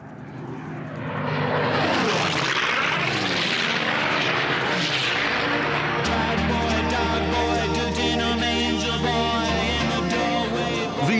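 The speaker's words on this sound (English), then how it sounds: "These planes are doing 500 miles an hour, 50 feet from the deck." Powerful racing plane engines roar continuously and loudly as the planes pass about 50 feet up at around 500 miles an hour, the pitch sweeping as they go.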